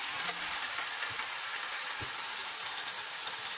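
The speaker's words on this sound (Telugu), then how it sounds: "ఆయిల్ వేడెక్కిన తర్వాత ఆల్రెడీ మ్యారినేట్ చేసుకున్న చికెన్ పీసెస్ని ఆయిల్లో మీడియం ఫ్లేమ్లో ఫ్రై చేసుకోండి" Marinated chicken pieces fry in hot oil in a kadai over a medium flame, giving a steady, quiet sizzling hiss throughout with no voices.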